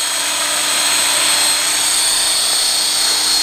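A radio-controlled aircraft fitted with a dynamic stabilizer hovers at steady throttle, close and loud, with a constant high whine and buzzing rotor drone that holds an even pitch throughout, with no voices.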